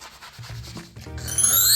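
A hand scraper rubs across a uPVC window frame with short, dry scratching strokes, faint and close, building to a harsher scrape at the end.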